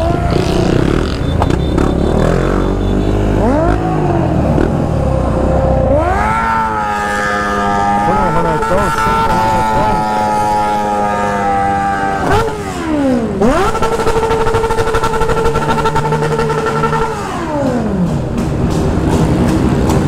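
A Honda Twister motorcycle doing spins roars loudly and steadily, its engine tone climbing and dropping in long revving sweeps that hold close and dominate throughout.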